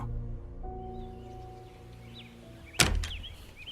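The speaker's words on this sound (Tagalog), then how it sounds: "Kumatok ako sa bahay ni Ate Shaira. Ngumiti siya nang pagbuksan niya ako." A door is opened after a knock in a village setting: a single solid thunk near the end breaks a low steady hum, with faint bird chirps around it.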